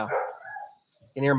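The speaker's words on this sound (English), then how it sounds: "That's my dog, if you can hear her." A dog upstairs gives a couple of short barks, muffled and slightly distant, mixed with a man's speech.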